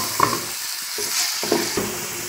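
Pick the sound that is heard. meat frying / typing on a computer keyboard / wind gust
meat frying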